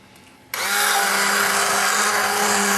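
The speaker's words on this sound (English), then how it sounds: "We just use a mixer" An electric mixer blends chickpea-flour farinata batter with water, switching on abruptly after half a second of quiet into a loud, steady high whir with a constant motor hum that holds to the end.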